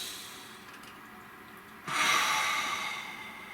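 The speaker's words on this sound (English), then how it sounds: "Let's take a nice deep breath." A single deep breath drawn in and let out, a soft breathy rush starting a little under halfway through and slowly fading, close and quiet with no talk.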